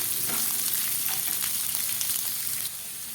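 Chopped onion and green chilies frying in a pan, a continuous close sizzle with scraping stirring strokes over it, quieting a little near the end.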